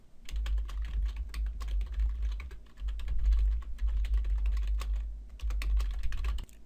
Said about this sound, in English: I'll type in my details.